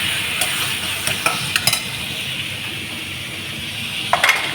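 Tomatoes and two dried red chillies stir-fry in a pan for a South Indian potato masala, a steady close sizzle with a few sharp spoon clinks against the metal.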